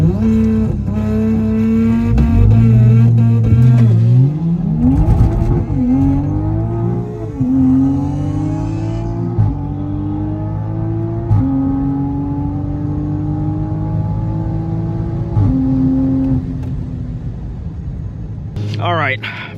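A Subaru STI or Toyota GR Supra makes a drag racing launch pass, a loud engine revving hard with rising pitch through several gear changes, then settling into a steady drone and fading out.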